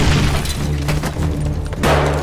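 A grenade detonates in an animated Call of Duty film, a loud, full-bodied boom that rolls on for about two seconds with a rough, crackling tail and a fresh surge near the end.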